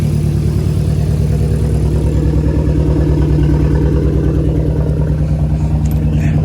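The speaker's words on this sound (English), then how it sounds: "we still got pops and crackle though" Audi S3 engine, recently replaced and shaking badly, idling with a steady, loud low rumble and a rough throb, with a few faint ticks near the end.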